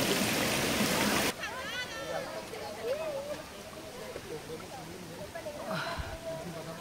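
Water from a waterfall pours over stones at Puente Calderón eco park in Zapotlanejo, Jalisco, first as a loud close rush, then as a low, steady flow beneath a person talking.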